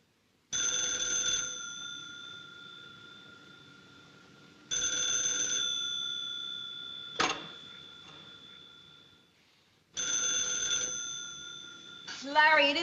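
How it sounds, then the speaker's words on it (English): A 1940s telephone bell rings in three separate bursts, loud and close, with pauses between rings and a brief clatter near the end. "Larry, it isn't the clock, it's the phone."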